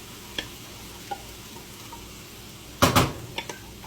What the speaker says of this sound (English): we're going to take our 1 cup of barbecue sauce and put that in here and mix it up